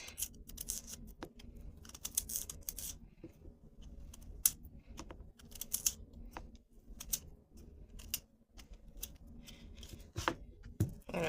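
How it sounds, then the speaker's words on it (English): Knife cutting the peels off sweet potatoes in a kitchen while making a plant-based sweet potato pie, heard as a run of close, sharp slicing clicks and scrapes in irregular bursts, with no talk. "of course cut the peels off. Cut the peels off."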